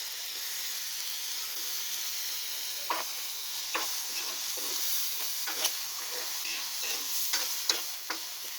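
Mushrooms frying in a pan for a simple tuna carbonara with bell pepper, a soft steady sizzle and hiss broken by scattered scraping stirs, fairly quiet with no talk.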